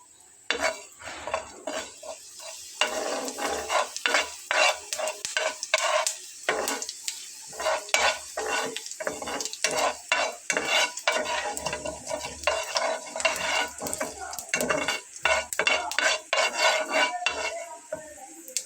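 Whole coriander, cumin and dried chilli flakes fry in oil while a metal spoon stirs and scrapes the pan in quick repeated strokes, close and busy over a light sizzle.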